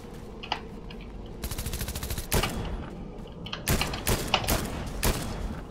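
DMR rifle gunfire in Fortnite comes as loud, sharp single shots and short rapid bursts. Several shots land close together, with brief gaps between the volleys.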